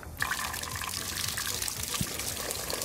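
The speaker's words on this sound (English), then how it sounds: "Now we're gonna fill it all the way up to the fill line." Goo filling liquid pours steadily into a squeeze ball mold, a soft continuous trickle and gurgle heard close up and fairly quiet, with no talking.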